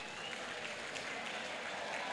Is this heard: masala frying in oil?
no